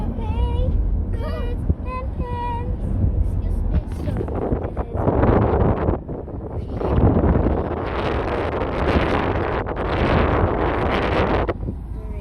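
Strong outdoor wind buffets the microphone in rough, roaring gusts on a very hot sunny day near a school, with a voice speaking briefly at the start before the rumble takes over.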